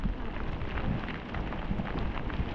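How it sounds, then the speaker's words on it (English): A late rain shower falls during a bike ride along a guided busway, a steady dense hiss of rain with some wind noise throughout, no talking. "We've hit a late shower now."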